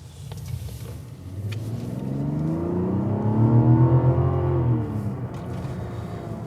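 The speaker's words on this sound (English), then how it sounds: "The 6-cylinder sounds good too, but I think they have a little artificial sound coming in here." Mazda CX-90 Turbo S six-cylinder engine heard from inside the cabin, a smooth steady rumble that swells as it accelerates over a few seconds, then eases back, with no talk.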